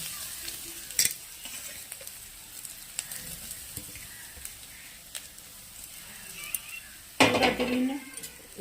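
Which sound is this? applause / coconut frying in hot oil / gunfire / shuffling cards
coconut frying in hot oil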